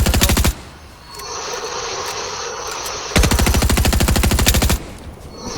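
Rapid automatic gunfire in the video game Fortnite, two loud sustained bursts of fast, evenly spaced shots with a quieter stretch of game ambience between them, heard close up.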